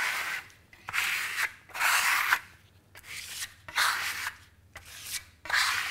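Trowel spreading SkimStone plaster across a Modello masking stencil: repeated scraping sweeps in a steady rhythm, each stroke a harsh close rasp separated by brief pauses.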